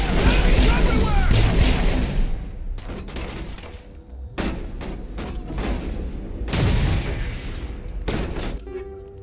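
Grenade explosions and gunfire in the video game Mass Effect, a string of heavy thumping blasts and shots spaced through the stretch, with voices calling out over the combat.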